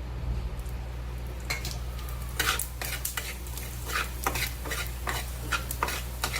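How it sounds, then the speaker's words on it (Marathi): Whole coriander seeds roasting in a little oil in a pan, rhythmic scraping stir strokes over a soft sizzle and a low steady hum. "आपण त्यामध्ये जे धणे घेतले होते अख्खे धणे ते आपण घालून घेऊया. थोडंसं तेल घालूया."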